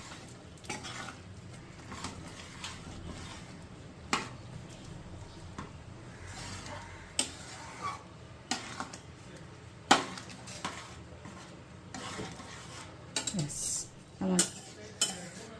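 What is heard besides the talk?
stirring garam masala and sugar into chicken chana masala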